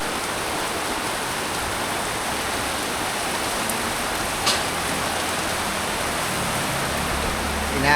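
Heavy storm rain falls as a dense, constant roar that fills the whole space, loud and even throughout, with a faint knock partway through.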